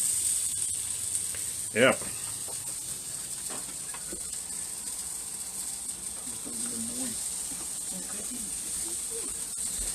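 Sausages sizzle and hiss steadily on a barbecue grill at fairly low heat, with a soft spoken word and a few light clicks and scrapes.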